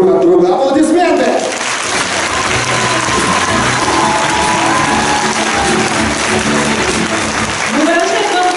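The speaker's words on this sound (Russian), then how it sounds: "Аплодисменты!" Concert audience applauding after a children's choreography and music performance at a 2017 school recital, a dense sustained wash of clapping throughout with tonal music or voices underneath.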